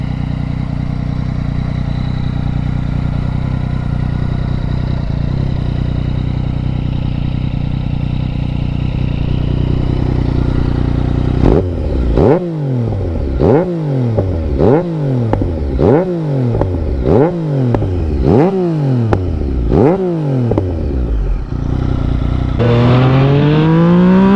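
A 2016 motorcycle engine drones steadily, then runs through a rhythmic series of about eight rising and falling revs, like repeated acceleration through gears, with a final climbing rev at the end.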